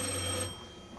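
A telephone ringing during a stage performance of a Tennessee Williams one-act play, one short bright electric ring that stops abruptly, then fades into quiet room tone. Nobody speaks.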